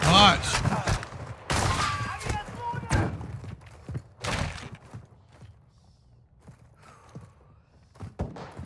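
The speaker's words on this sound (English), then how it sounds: "It's definitely shooting over towards cemetery" Distant gunfire in the game Call of Duty DMZ, scattered sharp bursts and thuds rising and fading in irregular clusters across the clip, with other game noise and footsteps mixed in.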